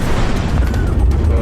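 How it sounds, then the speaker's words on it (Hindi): A massive explosion rumbles loud and dense with a sustained low boom and crackling debris roar, continuous throughout with no pause. "ऐसा धमाका जिससे धरती हिली,"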